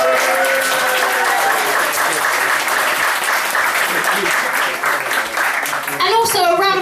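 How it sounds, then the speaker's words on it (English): An audience at a comedy night breaks into loud, dense applause for the organiser, a continuous wash of clapping with cheering and whoops mixed in, and voices rising near the end. "I'm going to make you give a fucking round of applause for Matt"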